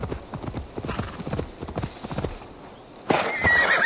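Rapid hoofbeats of a horse galloping in Assassin's Creed: Valhalla clop along under a mumbling voice, then the horse neighs loudly near the end.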